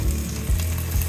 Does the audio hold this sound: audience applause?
no